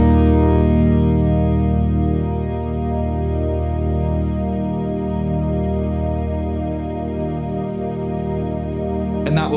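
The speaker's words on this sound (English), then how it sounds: "it can freeze your reverb tone as long as you are holding down the foot switch" An ALABS guitar pedal with its reverb freeze engaged holds a sustained, shimmering chord drone that stays nearly constant for several seconds, then ends with a short burst of noise.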